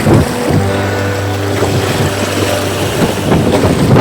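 Wind buffets the microphone while waves slosh and splash against boulders nearby off Weld Island, western Vancouver Island, British Columbia, with the low rumble of a small boat on the water.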